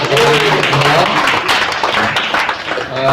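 Audience applause at an SDHD Banjar Tangerang seminar, a broad steady wash of clapping filling the room for about three seconds, with a voice carrying faintly underneath.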